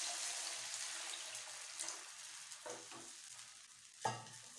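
Water goes into cooking masala in a pan for Maggi noodles, with a soft hiss and sizzle fading as it settles, and a few light stirring knocks and clinks along the way.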